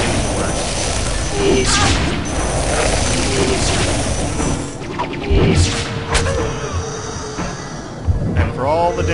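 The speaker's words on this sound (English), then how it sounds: "that is a Bishop firing his laser" A Bishop chess piece fires its laser in American McGee's Alice, heard as a run of booming, crashing blasts and thuds in a busy game scene, louder bursts near the middle and end, with talk over it.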